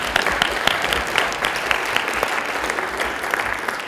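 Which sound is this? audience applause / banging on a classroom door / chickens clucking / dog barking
audience applause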